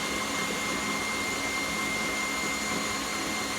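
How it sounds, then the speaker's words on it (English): An electric mixer whipping a mixture until it stiffens gives a steady, loud, continuous motor whir with broad noisy texture, close up and alone, holding an even tone throughout. "the mixer then, just it changed tune, and that's how you can tell it's really started to stiffen up now"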